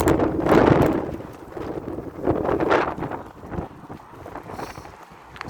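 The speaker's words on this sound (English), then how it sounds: "it's windy." Gusty wind buffets the microphone in loud, uneven surges with quieter lulls between them, and no voices are heard.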